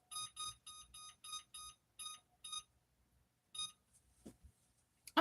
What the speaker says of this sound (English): Hold on, I'm going to set my timer.